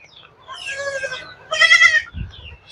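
Goat bleating at a goat farm in hot weather, a couple of wavering harmonic bleats close by, with a low thump near the end.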